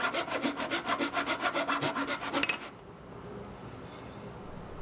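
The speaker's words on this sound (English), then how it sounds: "With all that done, the extra fretboard can be cut off." Rapid rhythmic back-and-forth strokes of a hand saw cutting the excess wooden fretboard off a psalmodikon, about a dozen close strokes, then an abrupt stop into quiet room noise.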